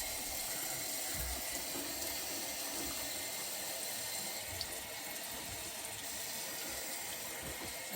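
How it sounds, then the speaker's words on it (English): Water runs steadily from a sink faucet, a constant hiss and splash heard close up at low level with no voices. "get some water running just to get that refilled."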